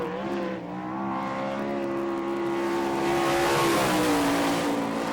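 Phil Gressman's Wise Motorsports 97 sprint car screams around the Hartford, Ohio dirt track in time trials, a loud continuous engine wail that climbs in pitch and intensity as the car accelerates down the straight.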